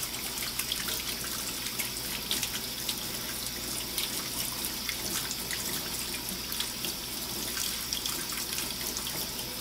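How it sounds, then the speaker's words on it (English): Warm tap water runs steadily from a kitchen faucet as dough is rinsed off hands, a continuous close splashing gush into the sink with no talking. "And I will rinse my hands full of dough."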